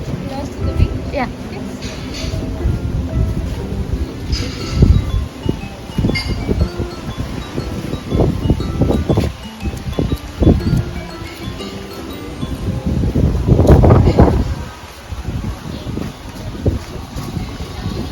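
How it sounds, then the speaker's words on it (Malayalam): Strong sea wind at a seaside restaurant in Mexico buffets the microphone in rumbling gusts, loudest near the end, while people talk close by. "കടലും കാറ്റും."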